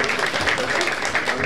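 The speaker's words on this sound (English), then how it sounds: "on les applaudit bien fort" Audience applause at a drag ball during a prize announcement, a steady wash of clapping and cheering from a crowd filling the room for the whole moment.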